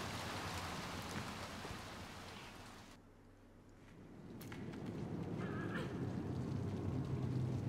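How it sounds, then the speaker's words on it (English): Steady rain in Little Nightmares 2 hisses loudly, drops out briefly to near quiet, then swells back to a full, close downpour. "I'm just gonna close that window. It's raining inside."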